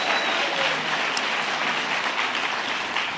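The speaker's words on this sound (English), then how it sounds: "Let's give them a round of applause for their hospitality." Applause from a crowd at an outdoor health care rally in New York, a steady dense wash of clapping that holds at an even level through the whole clip with no talk over it.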